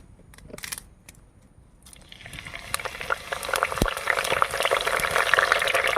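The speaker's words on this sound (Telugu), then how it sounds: "కుండ అయితే వేడెక్కింది, లైట్గా ఆయిల్ వేసుకుందాం. కరివేపాకు వేస్తున్నాను." Curry leaves dropped into lightly oiled hot clay pot, building to a steady, loud crackling sizzle after a few quiet clinks and taps at the start.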